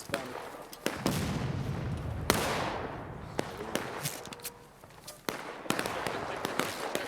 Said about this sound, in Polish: Strzelają do nas tam spod tych drzew.